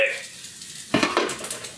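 Close-up stirring of egg and pasta frying together in a pan: a quiet sizzle, then a sudden burst of scraping and clattering utensil strokes that keep going in short pulses.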